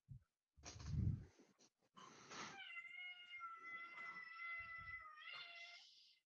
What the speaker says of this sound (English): That cat is not having a good time.